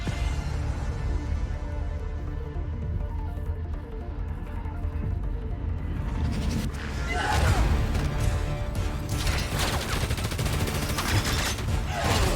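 Gunfire in Spider-Man Miles Morales, a dense rapid fusillade of shots that starts partway through and grows louder, with crashes mixed in and voices talking over the combat.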